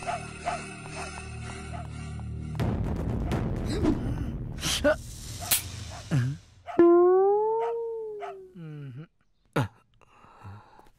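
A dog gives several drawn-out, wavering howls, loud and close, after a noisy commotion, in a Tamil comedy film scene with people talking around it.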